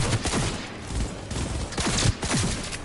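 Gunfire in the video game Cyberpunk 2077, dense overlapping bursts of rapid shots and fusillade crackle, loud and continuous throughout.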